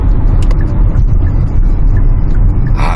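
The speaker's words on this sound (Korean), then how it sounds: "자, 이제 엑셀 뜨시고 항속 주행 하시고 여기서 유턴할게요." Hyundai Santa Fe DM cruising at steady speed after easing off the accelerator, with loud, continuous low road and engine rumble from inside the cabin and a brief brighter hiss near the end.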